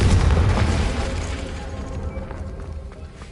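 Casting the Confringo blasting spell in Hogwarts Legacy sets off one heavy, booming explosion. It hits loud at once, then rumbles away over about three seconds.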